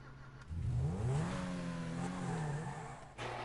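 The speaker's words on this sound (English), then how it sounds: "This is the engine." Car engine in the video game Grand Theft Auto revs up, its pitch climbing then holding and easing off; a loud, close, continuous roar lasting a few seconds.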